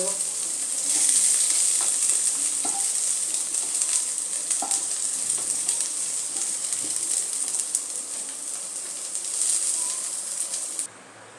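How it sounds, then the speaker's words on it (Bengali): Okra fries lightly in oil in a pan, with a steady, close hiss and faint crackles that run on throughout and then cut off abruptly at the end. "ভেন্ডিগুলো একটু হালকা করে ফ্রাই করে নেবো"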